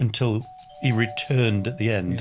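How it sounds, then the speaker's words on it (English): A home doorbell sounds during a recorded conversation, a sustained two-tone chime ringing faintly beneath a man's continuous speech. "Apologies if you heard my doorbell go there."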